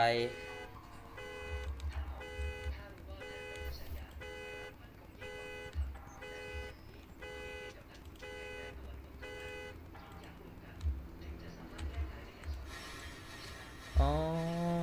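A car alarm in the video game Thief Simulator blares in a fast, regular series of electronic horn-like bursts for several seconds, then cuts off, over low background game sound.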